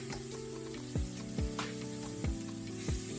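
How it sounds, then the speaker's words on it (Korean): Sundubu jjigae ingredients are stir-fried in a pan with ginger powder, giving a steady close sizzle broken by several regular scraping strokes, over a musical backing. "가루들이 잘 배이도록 섞으며 볶아줄게요."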